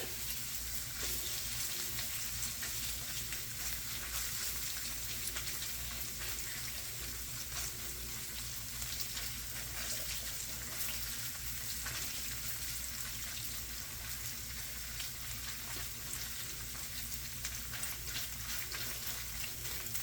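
About 3 ounces of tomato paste sizzles steadily in a hot pan as it is broken up, a loud, dense, unbroken frying hiss with faint scraping of stirring underneath and no talking.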